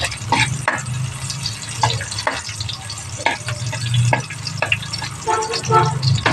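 Onion and garlic fry in a pan with a steady, close sizzle, broken by scraping and stirring sounds throughout.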